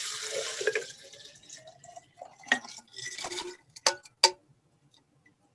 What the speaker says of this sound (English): Just pour it straight in here.